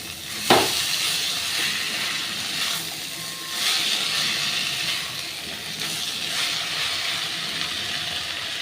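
Banana flower fries in a hot pan with a steady sizzling hiss. A loud clank comes at the start, then softer scrapes and rustles as the pieces are stirred. No one speaks.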